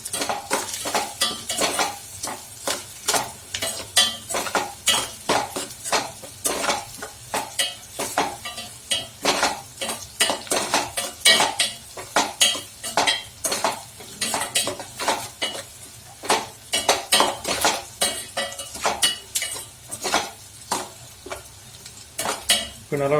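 Onions with salt sauté in a pan under constant, rhythmic stirring, a spatula scraping and clattering against the metal over a soft, close sizzle.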